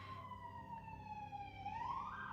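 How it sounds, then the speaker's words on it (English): A faint, distant emergency vehicle siren wails outside, its steady tone sliding downward and then rising again in a continuous sweep. "Siren confirmation, if you can hear lots and lots of sirens."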